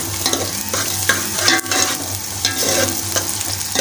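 Onions fry and brown in a pan of oil for aloo methi, sizzling loudly and steadily up close, with repeated stirring scrapes and spoon taps over the continuous crackle.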